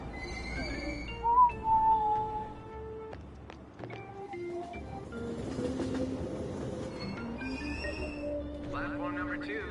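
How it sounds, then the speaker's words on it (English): Persona 5 video game train at a station platform, a low rumble with tonal chimes and beeps as the doors close, with voices and announcements over it. "Train doors are now closing."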